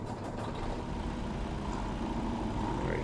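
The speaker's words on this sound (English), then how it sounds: "I'm going to go ahead though and fire up the truck so you can hear it." A Freightliner truck engine runs in American Truck Simulator, a loud, continuous low diesel rumble that fills the whole stretch, with no clear start or change in pitch.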